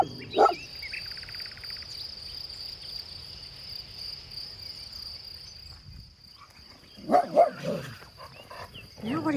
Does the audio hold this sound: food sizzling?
no